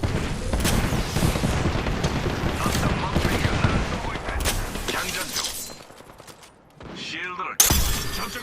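Dense, continuous automatic gunfire in the Apex Legends video game, with loud overlapping shots and shattering impacts, easing off before a final sharp burst near the end.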